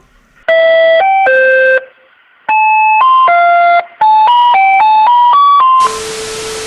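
A loud electronic bell-like tune, played as a melody of bright sustained tones in several phrases, of the kind heard from a street ice cream vendor, ending in a harsh buzzing tone.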